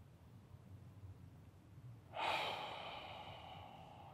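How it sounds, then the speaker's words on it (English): A deep breath during a restorative yoga session: quiet room tone, then a sudden audible breath beginning about halfway through and trailing off slowly, close and soft with no talking. "Taking in one more deep breath."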